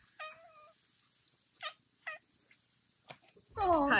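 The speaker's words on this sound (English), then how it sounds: "It's a cat, obviously." A house cat meows indoors, a drawn-out cry followed by two shorter meows about a second apart, close and clear in a quiet room, then a louder rustling thump at the end.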